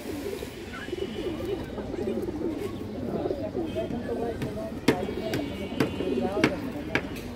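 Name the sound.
pigeons cooing, Giya Muslodom female pigeon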